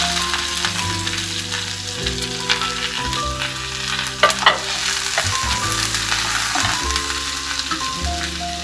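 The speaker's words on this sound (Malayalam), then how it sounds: "അതിലേക്ക് 2 വറ്റൽമുളക്, കറിവേപ്പില, പിന്നെ നമ്മൾ കുറച്ച് ഉള്ളി താളിക്കുന്നുണ്ട്." Dried red chillies, curry leaves and shallots fry loudly in hot oil, a continuous sizzle with occasional stirring scrapes and clatter of the utensil in the pan, no voices.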